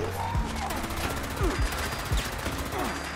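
Gatling laser firing in Fallout 76, a continuous stream of zapping shots with repeated descending whooshes, mid-level and steady over the game's background noise.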